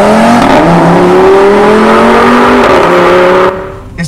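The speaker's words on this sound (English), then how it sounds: "It's just the turbo spools in quite quick, and if you launch this, you're gonna hit 0 to 60" An Audi RS3 launches hard, its turbocharged engine growling loud and close as the revs climb smoothly for several seconds before cutting off abruptly.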